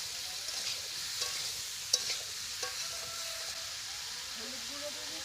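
Carrots, beans and other vegetables seasoned with salt and turmeric sizzle softly in a pan while a spatula stirs them, faint frying hiss with occasional scraping clinks, one sharper tap near two seconds.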